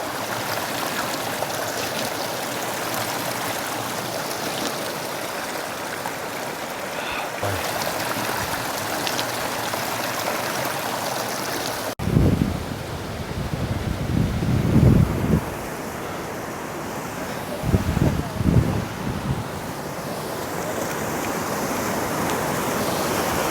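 Steady, broadband rushing water from a mountain waterfall on the Gomukh Tapovan trek in the Himalayas, continuous and fairly loud, with gusts of wind buffeting the microphone in the second half.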